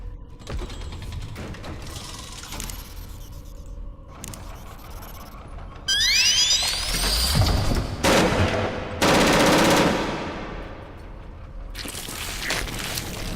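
Gunfire in the video game Stasis, loud bursts of rapid mechanical shots and clanking mechanisms, with rising whines and dense crashing noise layered through the middle.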